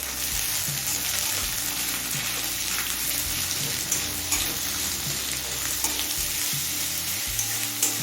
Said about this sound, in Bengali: এবার পেঁয়াজটা হালকা লাল করে ভেজে নেব।